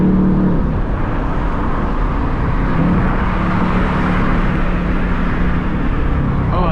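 A 2024 Mustang GT convertible accelerates, its engine a loud, continuous low rumble heard close from inside the car, with road noise and no talking.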